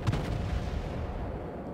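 American destroyer guns in World of Warships, aboard the cruiser Atlanta, giving a brief low rumbling boom that decays into a sustained deep roar.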